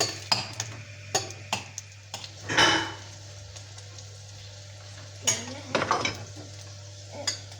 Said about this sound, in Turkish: Böyle karıştırıyoruz. Tereyağının erimesi gerek.